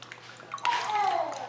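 Juice from a sous vide and smoked chuck roast is poured into a measuring cup, a short liquid trickle whose pitch rises as the cup fills, after a quiet start.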